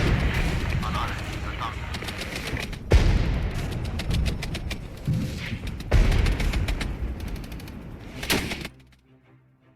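Military units firing weapons, including recoilless rifles, in the real-time tactics game Regiments: a continuous stretch of gunfire with heavy booming reports punctuating it, then cutting away to near silence at the end.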